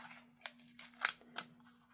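Scissors trim excess paper from a miniature handmade watercolor book, giving several quiet, close, crisp snips spaced roughly half a second apart over a low steady hum.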